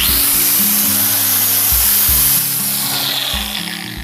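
A power saw cuts steadily into the casing of a LEPSE MShU-1.8-230-A grinder with a loud, continuous grinding whine close by that eases slightly toward the end, with no talk.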